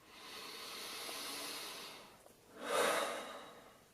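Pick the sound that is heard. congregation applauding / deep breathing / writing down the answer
deep breathing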